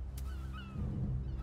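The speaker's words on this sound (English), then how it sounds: "We call them laughing gulls here." Calls of a laughing gull, a seabird by the sea in the video game A Plague Tale Requiem: a few short, rising honk-like cries over a low steady rumble of ambience.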